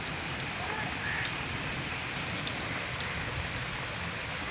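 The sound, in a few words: rain falling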